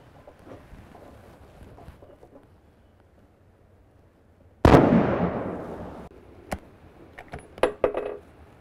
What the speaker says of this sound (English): once you've taken that shot, get your crosshairs right back exactly on the bullseye